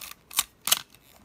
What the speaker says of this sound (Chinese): 这个快门哦，快门正常可动作哦。